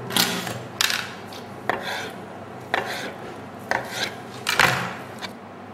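A knife cuts through young potatoes with the skin on, against a cutting board, giving about seven distinct, evenly spaced crisp chops heard close up, with no voices.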